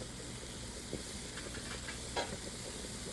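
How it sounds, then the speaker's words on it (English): Cabbage and other vegetables sauté in butter in a pan, making a steady low sizzle with a few faint stirring scrapes. The sound is continuous, close and quiet, and there is no talking. "Once the vegetables are sauteed down some, go ahead and add you about 2 tablespoons of butter."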